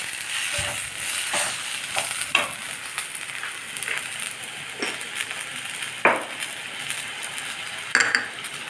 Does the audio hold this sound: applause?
no